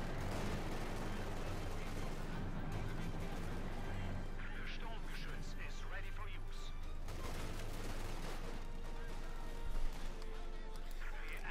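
Mortar and machine gun fire in Company of Heroes 2, a Wehrmacht versus US Forces match: dense, continuous battle noise with bursts and impacts throughout, a louder hit near the end, under a commentator's voice.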